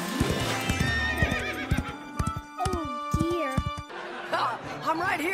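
A cartoon horse clip-clops in quick hoofbeats and lets out several high, wavering neighs and whinnies. Cartoon voices and playful sound effects fill the background.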